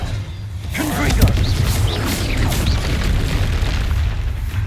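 Confringo fire spell explosion in the Hogwarts Legacy video game, a loud booming blast at the start settling into a continuous rumbling roar of game effects that runs through the whole clip.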